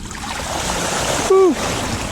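A recumbent trike rolls slowly through shallow flood water about five inches deep, with a steady wash of splashing and rushing water and a brief squeaky tone partway through.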